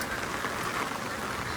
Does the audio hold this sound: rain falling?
yes